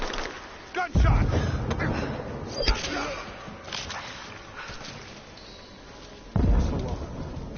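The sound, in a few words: gunshot in the video game Rise of the Tomb Raider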